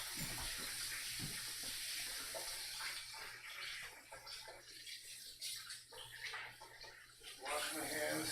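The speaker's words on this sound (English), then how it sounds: "But first, wash my hands." Running tap water splashing steadily over hands at a sink, a continuous broadband wash that rises and falls slightly as the hands move, fairly close, with no speech over it.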